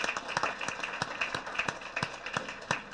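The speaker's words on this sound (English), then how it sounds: "So let's give our parents of the month a round of applause." Scattered clapping from a small group at a school board meeting honoring parents of the month; individual hand claps stand out sharply and sound thin and fairly quiet rather than a full ovation.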